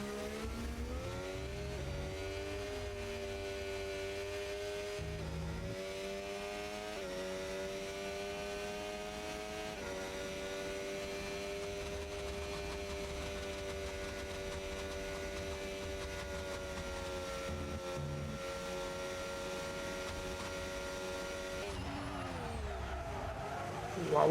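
Race cars in the Assetto Corsa racing game slide through corners on Belgium's circuit, a steady engine drone rising and falling with revs and sliding tires throughout, loud and close with no voices.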